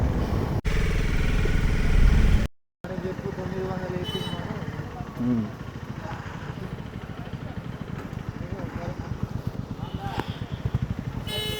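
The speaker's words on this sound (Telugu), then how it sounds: "ఇన్లైన్ ఫోర్ కవాసాకి అది వర్సీస్ అనుకుంటా" An inline-four Kawasaki motorcycle engine hums and revs close by, with a smooth, high-pitched multi-cylinder whine, steady idling rumble through most of the recording.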